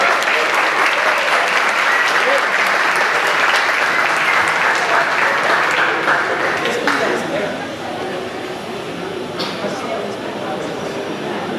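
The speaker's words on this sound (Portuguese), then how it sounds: "eu peço por gentileza uma salva de palmas" Stage audience at a convention panel claps steadily and loudly for a guest being welcomed, then the applause thins and fades toward the end.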